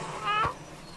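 A cat gives a single short, rising-and-falling meow, close and clear, ending in a brief thump, followed by quiet background noise.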